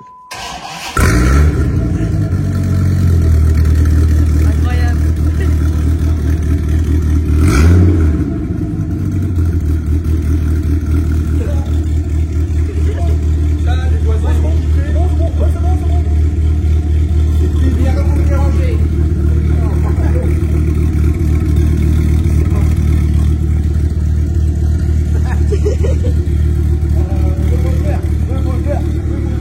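A car engine cranks and fires up, then rumbles loudly with a deep, steady idle and a blip of revving, while people talk over it.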